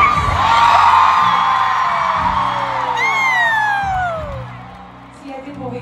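A huge arena crowd at Taylor Swift's Eras Tour in Tampa screams and whoops loudly, with high shrieks rising and falling above a sustained roar.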